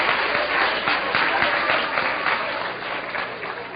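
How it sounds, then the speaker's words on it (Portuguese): A lecture audience claps together in a continuous, dense burst of applause that fills the room evenly, with no voices over it. "O que vocês aplaudem, eu vaiei."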